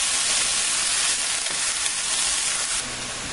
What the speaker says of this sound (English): I'm going to brown this up